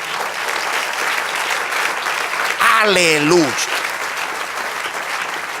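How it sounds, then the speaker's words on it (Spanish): Church congregation applauding steadily throughout, a broad dense wash of clapping, with a voice calling out briefly over it near the middle. "Den un aplauso al Señor."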